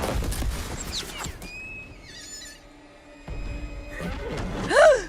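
A horse in an Assassin's Creed cinematic trailer whinnies loudly at the start and again at the end, with hoof clatter and faint tonal background sounds in between.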